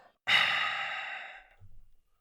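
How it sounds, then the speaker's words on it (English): Darth Vader breathing sound effect: a single long, close, hissing breath of about a second that fades out, then a brief low rumbling intake after it, with silence around. "let's go ahead and select that breathing right there"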